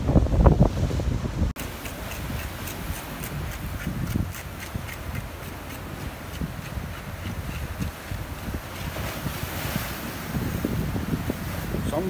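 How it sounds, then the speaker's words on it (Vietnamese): Strong wind gusts buffet the microphone on a rocky seashore by a lighthouse, blending with steady surf washing over flat basalt rocks; a loud, continuous roar that swells and dips, with a sharp break early on. "Gió quá trời."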